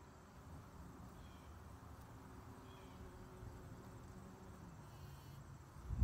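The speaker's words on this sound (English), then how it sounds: "Let's see if we can catch this bee pollinating a little bit." A bee buzzes faintly with a low, wavering drone while pollinating garden flowers, heard quietly outdoors without any talking.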